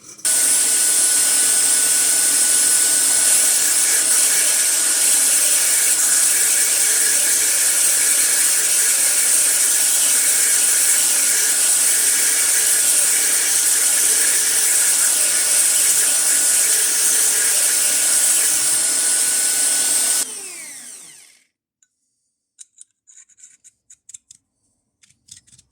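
Welding a metal sleeve onto a bike kickstand, a loud steady crackling hiss with a faint constant whine that runs for about twenty seconds and then cuts off, followed by a few faint clicks and taps in near silence.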